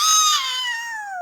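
A young child gives one drawn-out, high meow in imitation of a cat, loud and close, the pitch sliding slowly downward as it fades.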